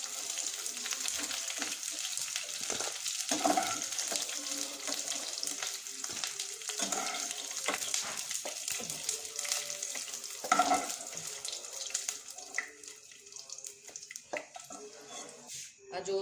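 Jackfruit pieces fry in hot oil in a home kitchen, a continuous bright sizzle with occasional stirring scrapes and bubbling, steady and close, with a faint voice now and then.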